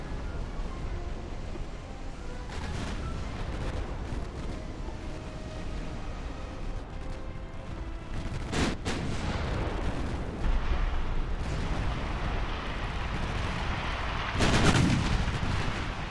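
Naval gunfire from warships in the Ultimate Admiral: Dreadnoughts battle game, a steady rumbling barrage with heavy booming salvos standing out, notably one around the middle and a louder one near the end, with no talking.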